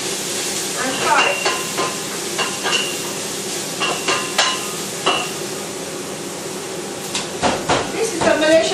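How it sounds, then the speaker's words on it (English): Ingredients for a white coconut curry with tempeh frying in a pan, a steady sizzle and hiss broken by repeated clacking stirs and scrapes of a utensil, close and moderately loud. "And fry."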